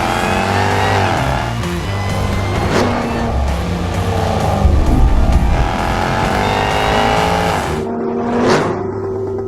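A Jaguar XE SV Project 8's 600-horsepower engine roars and revs hard at close range on a track, rising in pitch through manual gear changes, with a brief shift gap near the end.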